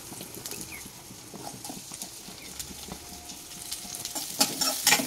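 Chopped onion goes into hot oil in a pan for a ridge gourd (bira kaya) masala. Soft clatter and stirring build to a loud, close, bursting sizzle near the end.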